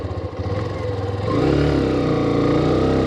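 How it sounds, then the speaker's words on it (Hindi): A Hero Xtreme 125R motorcycle carrying a pillion rider off-road revs hard midway, its engine note climbing to a loud, sustained roar that holds to the end. "चलिए पिलियन के साथ थोड़ा ऑफ रोडिंग कर लिया जाए, देखते हैं बाइक निकल पाती है या नहीं।"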